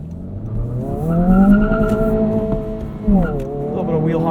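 A 2022 Honda Civic Si accelerating on a night drive, its engine note climbing in pitch in two rising pulls, loud and close, with someone talking over it.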